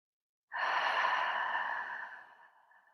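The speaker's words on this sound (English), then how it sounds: "And then slowly breathe out and let go." A single slow, deep exhale during a grounding meditation, breathy and close, starting abruptly after silence and trailing off gradually over about two seconds.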